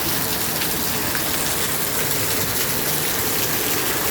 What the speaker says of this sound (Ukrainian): А на дворі ливень.